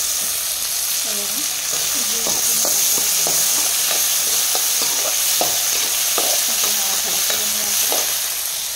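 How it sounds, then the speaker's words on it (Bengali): Chopped tomatoes and green chillies fry in a pan with a loud, steady sizzle and hiss, stirred with repeated scraping strokes while a voice talks faintly underneath. "দিয়ে একটু নাড়াচাড়া করে দেবো। দিয়ে দেবো টমেটো কুচি"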